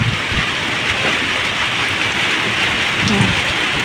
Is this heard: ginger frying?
no